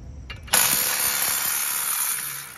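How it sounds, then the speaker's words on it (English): A breaker bar loosens the front brake bolts on a Subaru BRZ, one sudden close mechanical crack followed by a sustained bright metallic whir that slowly fades. "Back to the breaker bar, but we have more access this time"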